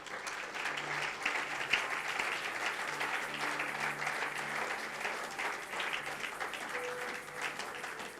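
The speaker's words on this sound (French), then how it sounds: "Est-ce qu'on peut acclamer le Seigneur?" A church congregation applauding to acclaim the Lord, steady sustained clapping from a large crowd filling the room, with faint voices mixed in but no clear speech.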